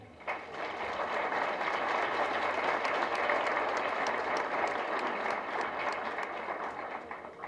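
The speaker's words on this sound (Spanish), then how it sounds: "pido un fuerte aplauso" A large audience gives a sustained round of applause to welcome Dr. Edward Charles Alexander Worrell González at an academic talk on chain of custody. The thick, even clapping holds steady for over seven seconds before easing slightly at the close.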